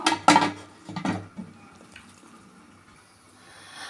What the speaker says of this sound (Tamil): இப்போ நம்ம வந்து குக்கரை மூடி போட்டு மூடிடுவோம்